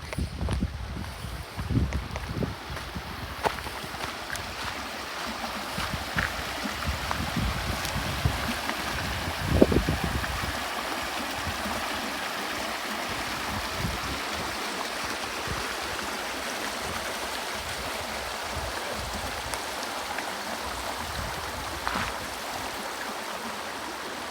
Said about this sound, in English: it's actually like a little mini waterfall